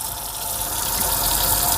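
Water runs from a sink tap at a handwashing station. It makes a loud, steady rushing gush that builds slightly and continues without a break, with no talking.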